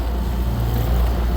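Small boat with a Mercury 9.9 horsepower outboard motor running steadily at close range, a continuous low engine drone with wind and water noise, no pauses.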